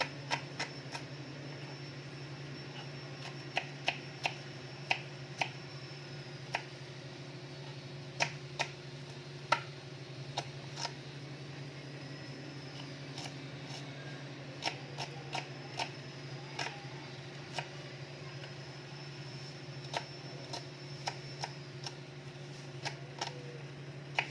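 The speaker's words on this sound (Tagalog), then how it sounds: "Okay, hiwa-hiwain na natin ang sibuyas." Onions are sliced on a cutting board in a kitchen: sparse, faint, sharp knife taps at irregular intervals over a steady low hum of background noise, with no talking.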